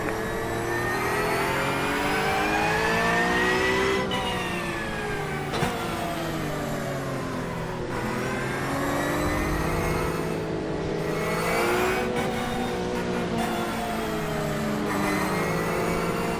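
Race car engines in a racing video game rev and climb in pitch, then drop with each gear change, repeating in a continuous loud whine over a steady drone of several cars.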